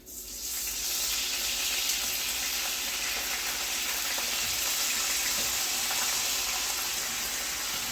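Butter sauce simmering in a pan, a loud, dense, continuous sizzle and bubbling hiss that rises within the first second and holds steady to the end, close up with no voices.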